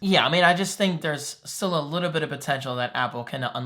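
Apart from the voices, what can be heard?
No everyday noises stand out.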